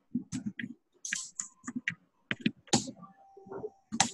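Someone types a message on a computer keyboard, producing close, crisp key clicks in uneven bursts with short pauses between them. The clacking stands alone, with no voices over it.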